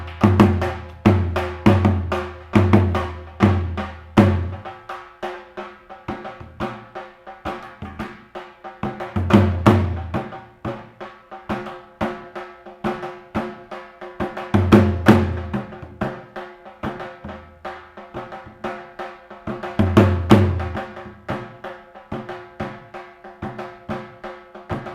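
Punjabi drumming in the chummar dance rhythm, sharp repeated strikes in recurring phrases with heavier booming accents every few seconds, close and lively, no voices.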